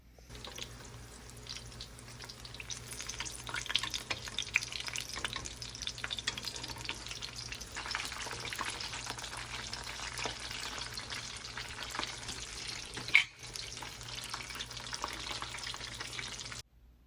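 Frozen snacks such as samosas frying in hot oil for an iftar meal, a steady dense sizzle and bubbling that runs throughout with occasional stirring clinks and one sharp knock near the end.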